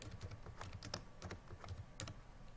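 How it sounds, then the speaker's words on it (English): Repeated keystrokes on a computer keyboard during word processing, with the space bar pressed several times, giving quiet, close clicks in an uneven rhythm with no voices. "if I'm pressing the space bar key, I'm giving multiple space bar keys over here"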